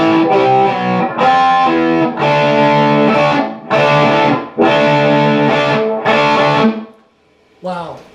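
Distorted electric guitar plays a riff, loud and close, in about six chugging phrases with brief gaps, then a short final stab after a pause.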